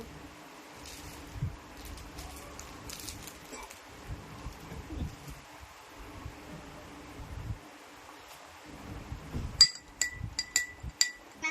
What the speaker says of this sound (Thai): ผมจะเอาเกลือใส่ลงไปในแก้ว